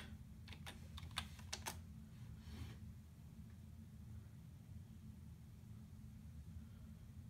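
A quick burst of computer keyboard typing, crisp clicks close by, then stopping, leaving a steady low background hum.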